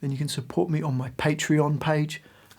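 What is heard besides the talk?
No everyday noise stands out behind the speech.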